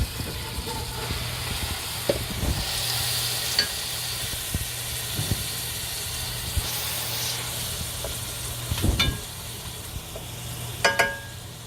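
Ground meat sizzling and frying in a hot pan for a bolognese, a steady broadband hiss with faint stirring and a few sharper crackles and pops toward the end, heard alone with no talk.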